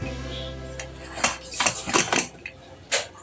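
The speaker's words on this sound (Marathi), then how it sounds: "तर बघूया एकदा आता कुकर खोलून की आपला राईस कसा रेडी झालाय." A pressure cooker holding egg biryani rice is opened in a home kitchen: close metallic clanks and scrapes of the lid and pot, several sharp knocks, with faint voice underneath.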